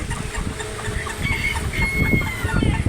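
Chickens of several kinds cluck and call while being fed outdoors, with short rising calls standing out over a busy background murmur and some distant voices.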